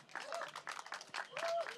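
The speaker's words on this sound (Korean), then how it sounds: "큰 박수 한번 주십시오" A short burst of audience applause at a concert-style event, moderate and somewhat distant, with voices mixed in.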